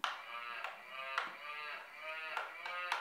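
A toy keyboard plays a recorded cow moo: a drawn-out, tonal lowing repeated in a few swells, fairly close and clear.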